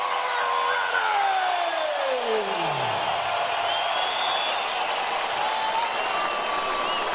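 A large boxing arena crowd in Las Vegas, Nevada, before Saul Alvarez vs Gennady Golovkin 2, roars with sustained cheering, whoops and applause, loud and steady throughout, with a falling tone sweeping down early on.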